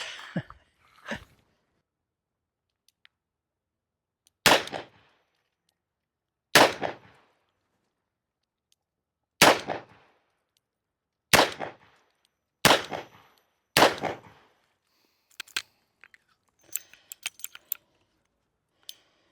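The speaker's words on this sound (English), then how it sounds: "There's a lot to learn in shooting revolvers." Revolver shots at a shooting range: seven or eight sharp, loud reports spaced a second or two apart, each followed by a short ring, then small metallic clicks and handling noises as the gun is reloaded.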